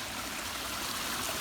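Small waterfalls trickling down through a wood on a light-rain day, a steady, even rush of running water with no breaks and nothing else heard.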